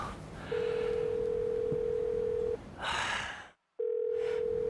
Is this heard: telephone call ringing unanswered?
yes